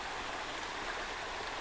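Water of the Little Muskegon River rushes over rocks in a constant, even wash of noise, heard close and alone without any talk.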